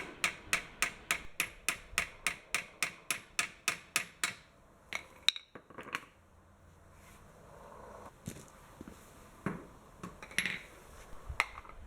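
Rapid, evenly spaced hammer taps ring out about four per second on a metal pin of a Wheel Horse 704 tractor, then stop; scattered clinks and knocks follow at irregular intervals.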